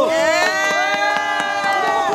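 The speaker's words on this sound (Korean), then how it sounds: "박수!" A rally crowd opposing the Pyeongchang Olympics cheers and shouts in a sustained wash of voices, punctuated by sharp claps, loud and continuous throughout.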